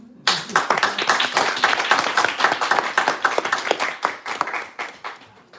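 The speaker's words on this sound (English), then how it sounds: "If you can give her a really big round of applause." Loud applause from an audience at a book reading in a bookstore, dense clapping that starts abruptly and continues steadily before tapering slightly toward the end.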